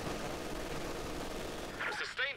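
Artillery barrage in the Company of Heroes 2 strategy game on the Port of Hamburg map: a dense, sustained roar of rumbling blasts, with a short voice line breaking in near the end.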